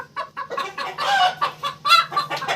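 A very small hen clucks repeatedly in short, uneven bursts, close and clear, with faint background hum and no voices.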